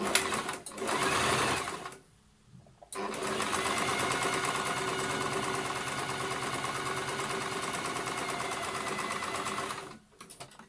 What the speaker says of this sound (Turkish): Düz dikişte hemen tek tarafından dikerek